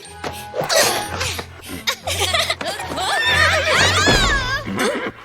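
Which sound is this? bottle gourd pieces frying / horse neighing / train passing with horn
horse neighing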